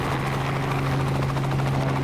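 A helicopter hovers close, its steady rotor drone with a low humming tone and a continuous rhythmic thrum filling the whole moment without any talk.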